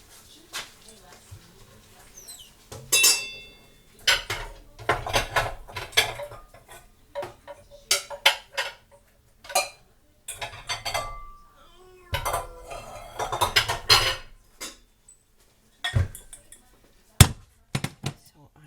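Bowls and dishes are handled in a home kitchen: close, intermittent clinks and clattering knocks of crockery and cutlery come in uneven bursts with short quiet gaps.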